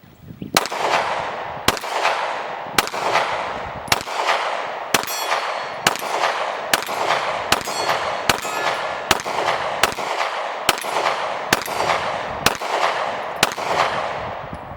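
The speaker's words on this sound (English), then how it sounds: "Let's put a few rounds down range and see what it's going to sound like real quick right here." Glock 43X pistol shots at a shooting range crack out one after another, about a dozen sharp, loud reports at a steady pace of roughly one per second, each leaving a brief ringing tail.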